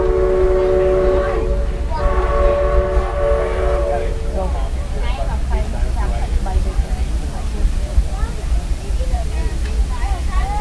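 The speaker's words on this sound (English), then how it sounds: "welcome aboard the Disneyland Railroad" Disneyland Railroad train on the Grand Circle Tour behind the locomotive Fred Gurley, a steam whistle blowing at first, then rumbling, clattering rail noise carrying on beneath a spoken announcement.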